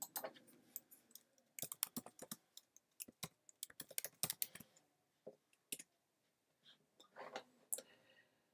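Fast bursts of typing on a computer keyboard, crisp close key clicks in uneven clusters separated by short pauses, fairly quiet with no talk.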